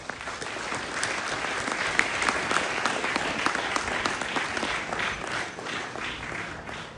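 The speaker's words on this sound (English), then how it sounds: "So let's have a round of applause for them" A large audience applauds at a ceremony for the first Indian Sailing League, a dense, even roar of clapping sustained throughout at moderate distance.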